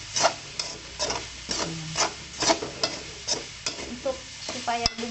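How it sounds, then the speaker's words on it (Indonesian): A spoon scrapes and stirs a combro seasoning mixture in a hot pan, with repeated rhythmic scraping strokes over a light sizzle of frying, close and clear with no talking. "Kita aduk lagi."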